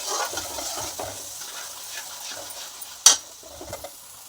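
Onion paste fries softly in a pan with a low, steady sizzle and light stirring, then a sharp utensil clink near the end.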